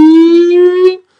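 A beatboxer imitates a siren with his voice: one loud, close, rising-pitched wail lasting about a second, then a sharp cutoff into silence.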